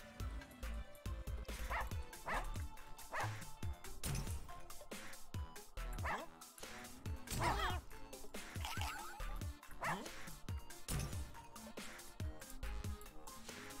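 Dogs in the Russian Subway Dogs video game bark and yip almost continuously, dense overlapping barks mixed with game music and effects, no speech.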